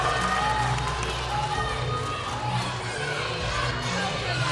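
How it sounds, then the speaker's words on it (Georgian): A studio audience at a televised celebrity dance competition fills the room with dense, steady applause and cheering, a broad wash of clapping with some excited voices mixed in. "აპლოდისმენტები."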